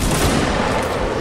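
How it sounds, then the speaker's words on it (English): Musket volley in a Napoleonic Wars video game battle at Eylau, a dense, loud burst of overlapping gunfire filling the whole moment, close and without talk. "Power of volley. Company continue firing at will."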